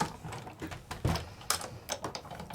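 A die-cutting machine feeds a metal die and card through its rollers, giving a close run of irregular clicks and clunks with no voices.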